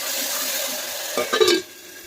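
A short stir of tomatoes and fenugreek leaves in a curry pan. Soft sizzling hiss, then a brief scrape and clatter of the spoon.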